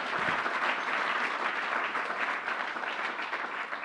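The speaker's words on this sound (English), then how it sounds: "Let's give Eric a round of applause." Steady applause from a crowd for an honoree at an event, continuous clapping holding at an even level for the full few seconds with no talk over it.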